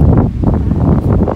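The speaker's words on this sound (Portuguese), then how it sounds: "mas olha o vento, como é que tá aqui." Strong wind buffets the microphone in a loud, continuous roar with gusty swells, heard outdoors in a city during a road trip.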